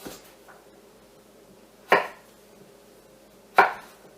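Knife chopping potatoes into 1-inch squares on a cutting board: two sharp, isolated chops spaced well apart against a quiet background hiss.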